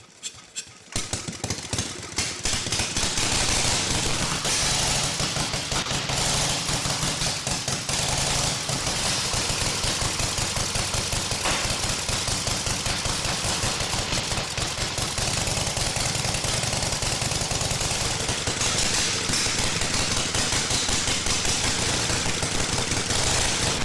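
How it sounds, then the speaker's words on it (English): A board track racing motorcycle engine is pedaled over, then fires and settles into a loud, rapid, close-up staccato of exhaust pops that runs on steadily for the rest of the stretch. "Decompress the engine. Give it about 2 pedals. This thing ought to roar to life."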